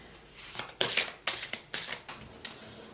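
A Béline oracle card deck is shuffled by hand in about six quick, crisp riffling bursts, close and clear with short pauses between them.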